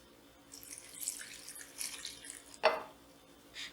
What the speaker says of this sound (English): And now I'll pour milk.